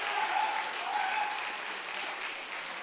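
A theatre audience claps together in steady, sustained applause at a live stage magic show, a dense even wash of hands that holds at moderate loudness throughout with no voices over it.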